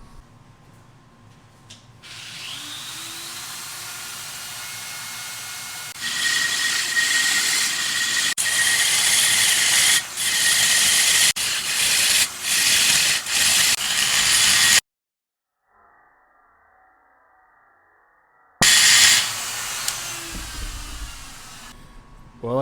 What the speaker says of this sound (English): I've got to do a little bit more grinding